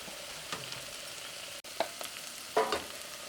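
Spices with garam masala sizzle softly in a little oil, a quiet steady crackle broken by a few brief spoon scrapes and taps against the pan.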